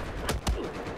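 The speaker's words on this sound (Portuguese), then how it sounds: "Ai, tô tomando tiro, não sei da onde." Battlefield 4 gunfire: two sharp, loud shots about a fifth of a second apart, standing out against background game noise.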